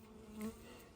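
Honey bees buzz around an open hive during a frame inspection. The drone is faint and steady, with one slightly louder pass in the middle of the brief moment.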